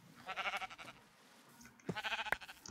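A Minecraft sheep bleats twice, each a short, wavering baa, with a pause between them, at a low volume.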